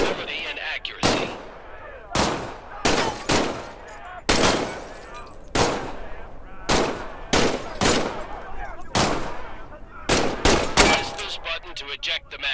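Pistol gunfire in the Medal of Honor VR video game, a dozen or more sharp, loud single shots fired at an uneven pace, each with a short echoing decay, mostly alone.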